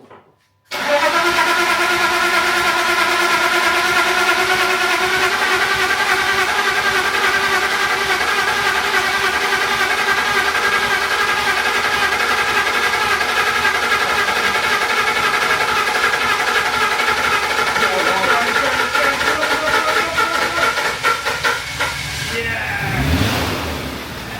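Neglected BMW E36 engine cranking at length with a steady rhythmic starter churn, loud and close, sputtering toward the end as it tries to fire, with a voice heard over it.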